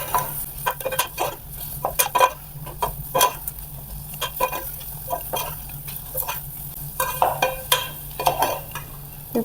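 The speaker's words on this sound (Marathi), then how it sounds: "हळद आणि हे मसाले आता आपल्याला यामध्ये छान असे परतून घ्यायचे आहेत" A spoon scrapes and clinks against a pan as turmeric and sambar masala are stirred and sautéed, giving irregular metallic taps over a faint background sizzle.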